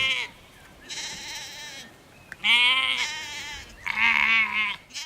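Sheep bleating in open countryside, several loud, close, wavering calls in separate bursts with short gaps between them.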